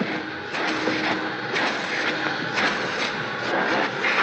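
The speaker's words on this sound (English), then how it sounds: "I can't hear you over the vacuum" A vacuum cleaner runs inside a hotel, a loud, steady broadband roar that holds even throughout with no gaps.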